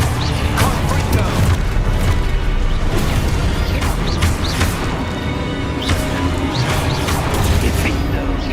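Confringo blasting spells exploding in the video game Hogwarts Legacy, a dense, loud stream of booms, crashes and crackling bursts over busy combat noise and music, with a voice calling out spells.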